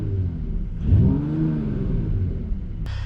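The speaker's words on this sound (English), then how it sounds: "Open up the windows and let's do a quick little rev test." A Mercedes E53 AMG in Sport Plus mode gives a quick rev from idle, the engine note sweeping up sharply and easing back down into a steady burble, heard close by with no voices.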